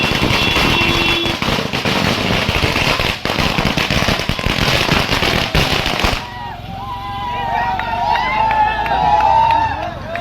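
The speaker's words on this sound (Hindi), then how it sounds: "गर्दनी बाग में धरना स्थल पर छात्र नेता दिलीप ने छात्रों के साथ आतिशबाजी की, जमकर पटाखा फोड़कर जश्न मनाया" Dense crackling bursts of firecrackers rapidly popping for several seconds amid a noisy crowd of students celebrating at a protest site, then quieter chatter with whistles and calls as the bangs stop.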